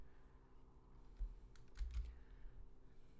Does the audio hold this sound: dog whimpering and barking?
no